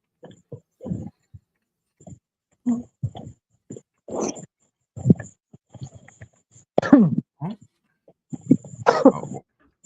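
A person coughs and clears their throat in humid air, a series of irregular, close, fairly loud bursts separated by short silences.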